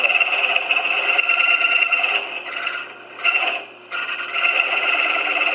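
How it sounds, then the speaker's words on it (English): A drill press bores a dowel hole through a wooden handle, a close, steady grinding scrape that pauses briefly twice and then resumes, with no talk. "I'm going to cut that dowel hole on the drill press."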